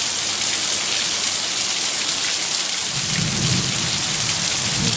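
Heavy thunderstorm rain pours down steadily in Canton, Ohio, a dense, loud hiss of rain on surfaces throughout, with a deep low thunder rumble swelling in the second half.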